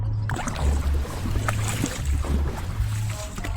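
Rhythmic dragon boat paddle strokes splash and churn water close by during training, with a steady low rumble of water and wind throughout and no voices.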